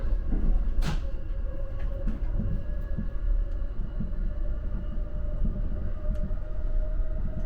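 Inside an E261 series Saphir Odoriko limited express passing through Fujisawa Station, a steady low rumble of wheels on rail fills the cabin, with faint rhythmic clicks of track joints and a brief higher rush near the start.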